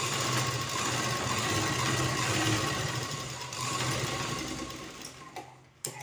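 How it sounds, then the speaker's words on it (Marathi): An electric sewing machine runs continuously while stitching a plain blouse, its rapid, even mechanical whir holding for about six seconds before slowing and stopping near the end. "तर अशा प्रकारे आपण हे पूर्ण डॉटला शिलाई मारून घेऊत"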